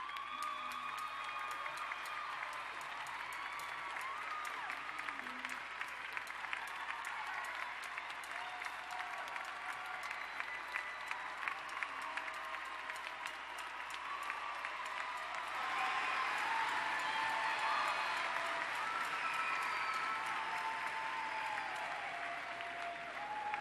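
A large audience at a Winthrop University undergraduate commencement claps for a long stretch. The applause is continuous and crowded, with scattered cheers and whoops, and it swells louder near the end.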